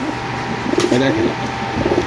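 Soft low pigeon coos rise and fall at a pigeon market, amid a busy background murmur, with distant voices and bustle around them.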